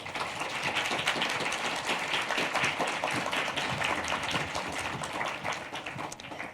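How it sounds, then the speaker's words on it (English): An audience claps steadily to welcome the guests at a careers-in-counseling talk, a dense, even wash of many hands that holds at a constant loudness for about six seconds and thins slightly at the end, with no voices over it. "So if you will give them a round of applause and a welcome."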